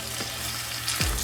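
Chicken coated in adobo sears in a hot pan, a steady bright sizzle with a low hum underneath, broken by two short scraping stirs, the second one louder near the end.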